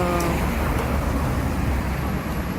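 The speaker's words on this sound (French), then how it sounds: "j'espère que vous m'entendez à peu près là avec les voitures qui sont à côté" Steady roar of road traffic nearby, a dense continuous rumble of passing cars with no breaks.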